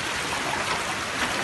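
A river stream flows at night in southern Cianjur, a steady broadband rushing of water that stays even and moderately loud throughout, with no voices.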